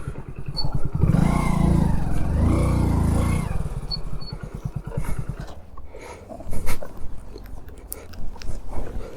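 A motorcycle rides up near Khonoma village in Nagaland and then parks, its engine droning loudly at first and then easing off, followed by scattered clunks and handling noises.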